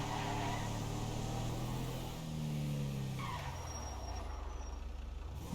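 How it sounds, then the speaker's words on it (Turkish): A car driven and parked in the video game GTA 5 Online, with an engine hum whose pitch sweeps down as it slows, a brief tire squeal, and a steady hum continuing afterward. "Bu arabayı şöyle park edelim ya şuraya."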